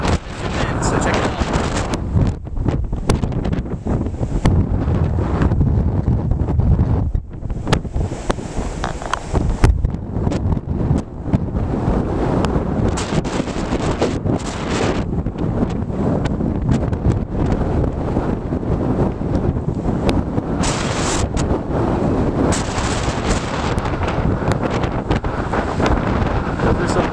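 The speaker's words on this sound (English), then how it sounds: "Those are some big waves out there." Large ocean waves break offshore at Hatteras Island, heard as a dense, continuous roar of surf under strong wind buffeting the microphone, loud and steady throughout with gusty surges.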